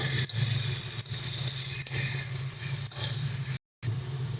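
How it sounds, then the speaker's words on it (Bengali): Potatoes frying in a pan, a steady close sizzle and hiss of hot oil running without pause, with a few faint soft knocks and a brief dropout near the end. "আলুটাকে বেশ খানিক্ষণ কিন্তু সুন্দর করে লাল লাল করে একটু ভাজতে হবে"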